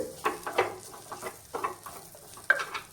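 Chilli powder and masala sautéing in a pan for a banana flower curry, with soft sizzling and several short scraping stir strokes coming in uneven bursts, fairly close and moderately quiet.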